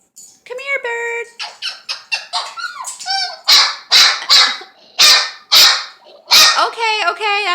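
A dog barks repeatedly up close, sharp loud barks in quick bursts mixed with whining squeaks, while a person talks at the start.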